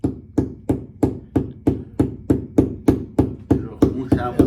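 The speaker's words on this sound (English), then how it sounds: "This is a soft hammer" A soft hammer strikes wood in a steady, evenly spaced series of about a dozen close, dull knocks, part of repairing a wooden plug on the Fortune 151 boat.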